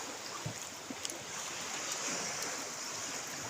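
Sea waves lap and wash against a small boat out on the open sea near an island, a steady close hiss of churning water with a few soft knocks, no talking.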